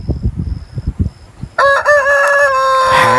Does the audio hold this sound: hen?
yes